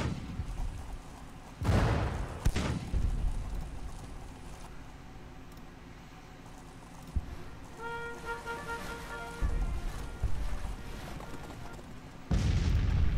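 Civil War artillery and musket fire in Grand Tactician, set at the Ohio and Erie Canal: booming cannon shots spaced several seconds apart over a steady rumble of distant battle noise, with a brief tonal call in the middle.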